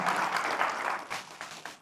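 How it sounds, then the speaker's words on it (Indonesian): Applause at a church sermon gathering, steady crowd clapping for nearly two seconds, then tapering into scattered claps near the end. "Tepuk tangan."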